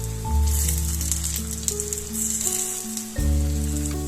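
A sweet snack deep-frying in hot oil while being turned over and over, giving a steady, close sizzle with a soft bubbling crackle that runs under background music.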